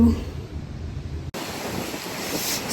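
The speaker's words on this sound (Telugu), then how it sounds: "ఫుల్ వర్షము గాలి అసలు తుఫాను స్టాము" Stormy weather with heavy rain and strong wind while waiting outside an office, a loud steady roar of gusts and downpour buffeting the microphone, briefly cut off midway, then resuming without talk.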